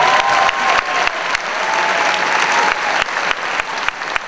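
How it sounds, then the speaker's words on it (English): Audience applause for the Maritime faculty at a university commencement, loud sustained clapping from a large crowd with sharper individual claps standing out near the front. "So please, a round of applause for our Maritime faculty."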